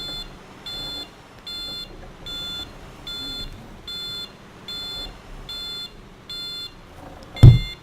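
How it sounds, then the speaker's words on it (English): An Auman GTL truck's reversing beeper in Euro Truck Simulator 2 sounds as a steady series of about nine evenly spaced, loud, high electronic beeps, ending in a sharp thump. "Too busy concentrating on the awful beeper sound."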